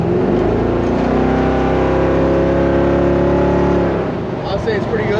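A 1968 Camaro convertible engine idles and revs up, holding a steady, loud, near rumble for about four seconds before the throttle drops back. A voice is faintly heard near the end.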